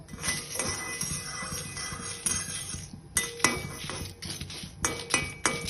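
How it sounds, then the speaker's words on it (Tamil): Dry rattling and scraping in a pan as whole spices, black pepper and dried red chillies, are dry-roasted and stirred, with repeated metallic clinks of a spoon against the pan. "இதெல்லாம் நம்ம அப்படியே ட்ரையாக வறுத்துக்குவோம்"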